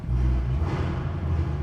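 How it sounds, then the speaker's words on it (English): In an underground garage, a US-spec 2023 Chevrolet Corvette Stingray engine holds a loud, deep, sustained roar, close and constant, with nobody talking. "And now let me rev it a few times."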